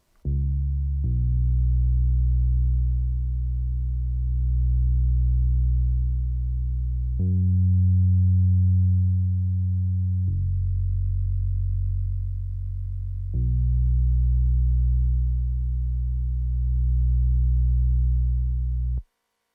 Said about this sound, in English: The bass is a programmed synth bass. I put on this tremolator to give it some volume movement